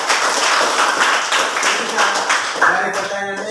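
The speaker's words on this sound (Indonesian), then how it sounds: "Ya, tepuk tangan untuk Egi." A class claps for a student named Egi, a dense, steady patter of many hands lasting the whole moment, close and fairly loud with a few voices mixed in.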